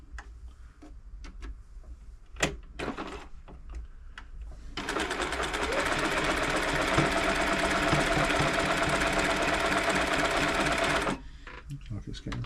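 An Elna Club Computer 500 sewing machine being serviced starts after a few clicks and runs in a steady, fast stitching whir for about six seconds before stopping, with a person talking nearby.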